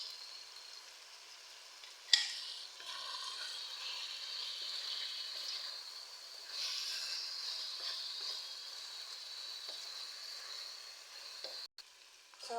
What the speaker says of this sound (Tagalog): Hayaan muna natin hanggang maluto yung chicken